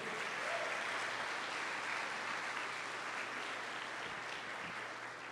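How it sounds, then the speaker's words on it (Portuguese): A church congregation applauds steadily during a sermon, a dense, even wash of clapping that holds through the whole stretch with no speech over it. "Vamos aplaudir Jesus por isso?"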